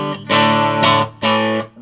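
A 1980 Washburn Falcon electric guitar played clean through its coil-split bridge pickup, with reverb, ringing out in three sustained strummed chords with clear harmonic overtones, close and fairly loud, with no voices.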